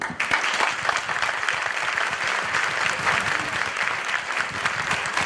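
An audience at an education policy forum applauds warmly, dense clapping with some sharp individual claps up front, holding steady throughout.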